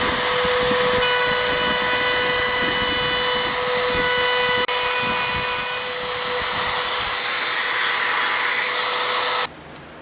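A router cuts into rosewood with a loud, steady high-pitched whine and rough grinding. The motor drops in pitch slightly midway, then stops abruptly near the end, leaving a quieter hum.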